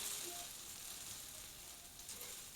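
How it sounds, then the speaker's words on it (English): Salisbury chop steak patties sizzle steadily in a frying pan, a continuous close hiss and crackle holding even throughout with no voices. "we're going to fry them up"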